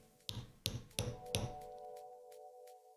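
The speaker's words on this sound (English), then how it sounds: "Because I do actually have a hammer." A hammer taps a webcam four times, sharp evenly spaced knocks with a faint metallic ring lingering afterward, followed by a couple of softer taps.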